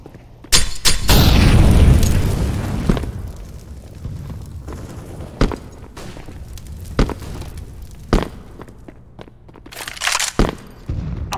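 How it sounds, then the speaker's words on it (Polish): A flashbang grenade bursts in Counter-Strike: Global Offensive on the Mirage map, a loud sustained boom with ringing decay, followed by scattered sharp game impacts and footsteps, with no talking. "I'm throwing a flashbang."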